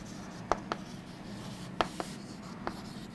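Chalk or a pen writing on a board during a biology lesson, heard as a few short, sharp scratchy taps in small pairs over a low, steady room hum, with no talking.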